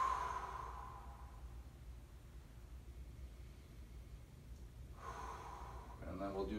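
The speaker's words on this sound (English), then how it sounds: "Big inhale and exhale. Keep breathing." Deep breaths drawn in and let out during a hip external rotation stretching exercise: one broad, airy breath at the start and another near the end, with a quiet stretch in between.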